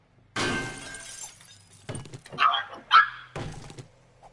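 A pug barks a couple of times in short, muffled yelps from another part of a home, faint behind game noise and a loud rushing burst at the start.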